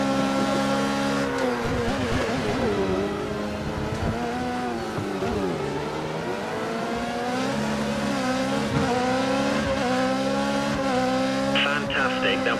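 Formula 1 car in the F1 2014 racing game lapping the Montreal circuit, its high-pitched engine continuously rising and falling through gear changes, close and loud, with a brief tire squeal near the end and a voice speaking over it.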